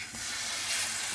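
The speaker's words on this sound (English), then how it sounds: "that's the sizzle you want to hear." Hot oil hisses and crackles in a pan, a steady bright sizzle heard up close with no talking.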